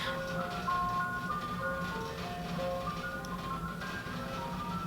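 An ice cream truck plays its tinkling melodic jingle while driving by in a neighborhood, the tune fairly faint and distant over a low steady rumble of traffic.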